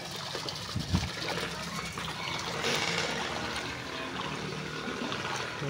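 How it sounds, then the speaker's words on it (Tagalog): Water pump running during a flood, a steady rushing, trickling flow of water with a few knocks, heard close and moderately loud. "Water pump."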